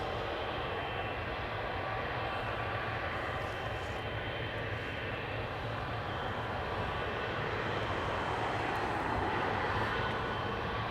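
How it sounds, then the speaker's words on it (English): An Emirates Boeing 777-300 passenger jet departs Amsterdam Schiphol, its engines producing a steady, distant broadband roar that stays even throughout with no talking. "that's a 777-300. It's Emirates Flight 146, passenger flight to Dubai"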